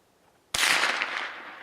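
A single sharp rifle shot during a mule deer hunt in Oregon, loud and close outdoors, cracking suddenly after a quiet stretch and trailing off in a long rolling echo.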